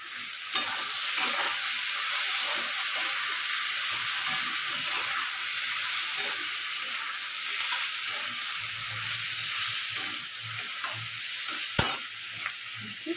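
Potatoes frying with salt in a pan while being stirred, a steady close sizzle running throughout with occasional scraping stirs and one sharp clank near the end.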